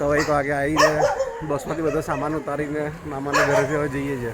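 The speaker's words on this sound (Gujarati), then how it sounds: "અહીંયા કૂતરા ભસે છે મને." Dogs bark repeatedly nearby, several sharp barks and yips under a person talking.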